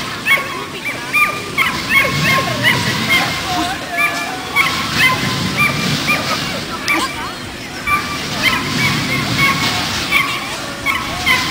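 A young female pit bull, under two years old, barks and whimpers amid a noisy outdoor village-day demonstration, with people talking throughout and splashing water in the background.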